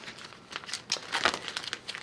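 A paper bag crinkles and rustles as hands handle it, giving quick, close, soft bursts of crackling in an irregular rhythm, with no voices.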